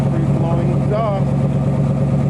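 A car engine idles through a Cherry Bomb exhaust, giving a steady low rumble that runs throughout beneath a voice.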